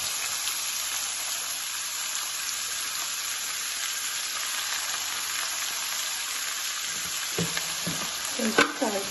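Broad beans (chikkudukaya) sizzle and fry steadily in a pan, a continuous close crackle with a few louder clinks and stirring knocks near the end.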